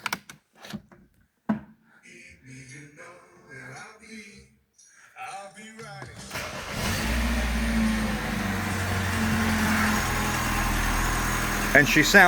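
A Mini Cooper R56 engine, just rebuilt, starts partway through and settles into a steady idle, loud and close, after a stretch of quiet clattering and handling noises.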